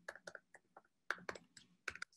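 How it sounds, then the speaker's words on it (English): Password typed on a computer keyboard: a quick, uneven run of crisp key clicks in two short bursts with a brief pause between, close and quiet, no speech. "now I need to type my password."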